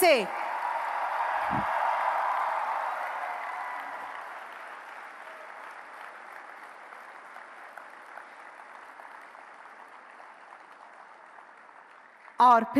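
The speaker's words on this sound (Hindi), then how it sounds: "आइए प्रधानमंत्री जी की मानक उपस्थिति और मार्गदर्शन के लिए बहुत बहुत तालियों के साथ उनका धन्यवाद करें।" An audience applauds the Prime Minister at the Semicon India 2023 inauguration at Mahatma Mandir, Gandhinagar, with a dense, sustained wash of clapping that slowly thins and fades, a brief voice cutting in at the very end.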